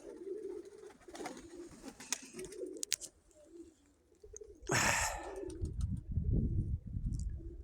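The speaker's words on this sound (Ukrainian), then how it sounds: "Ось красненька голубка" Mykolaiv breed pigeons cooing outdoors in Zhytomyr region, soft repeated coos over a low background, with a loud burst of wing flapping midway followed by rustling and handling noise.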